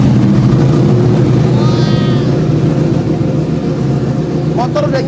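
A modified Yamaha R1 motorcycle idles steadily nearby, its engine giving a low, even rumble that holds constant throughout.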